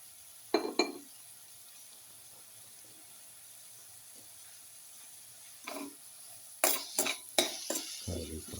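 Red spinach is sautéed in a pan, with scattered clinks of a utensil against the pan and brief stirring scrapes, faint and close in an otherwise quiet kitchen.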